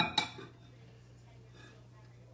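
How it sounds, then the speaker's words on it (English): A ceramic coffee mug set down inside a microwave, one sharp clink near the start followed by quiet, close and faint against a low hum. "Gonna set the mug inside."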